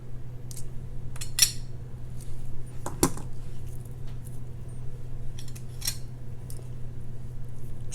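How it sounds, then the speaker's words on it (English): A few sharp metallic snips and clicks from small cutters trimming excess wire on a beaded spider necklace, close and crisp over a steady low hum, with no talking. "Snip off the excess."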